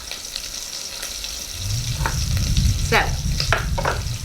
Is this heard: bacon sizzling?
yes